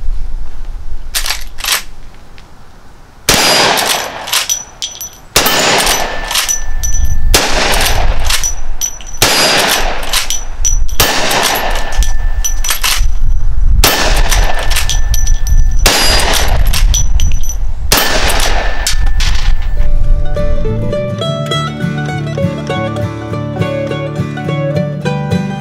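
A 44 Special lever-action carbine with a carbine-length barrel and color case hardened side gate fires about seven loud, sharp gunshots at a steady pace outdoors, each followed by a ringing clang of steel targets, then quiet music starts near the end.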